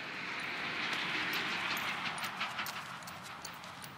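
Hooves of a Criollo horse, a young one just learning the bit, clip-clop at moderate distance in a steady rhythm over a broad outdoor wash of background noise for about four seconds, with no one talking.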